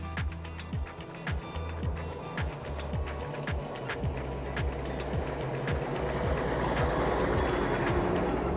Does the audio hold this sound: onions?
no